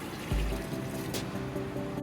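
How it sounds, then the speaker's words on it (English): Water poured into a steaming pot of reduced wine for a red snapper and spiny lobster bouillabaisse, a steady trickling fill with a splashy onset, close and fairly quiet, with no talking. "we're gonna add 3 quarts of water"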